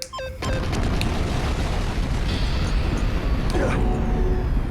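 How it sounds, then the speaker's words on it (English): A loud explosion in the Danganronpa: Trigger Happy Havoc video game bursts in after a brief electronic chime, then becomes a dense, roaring rumble that fills the rest, with a faint tone rising near the end. "It blew up."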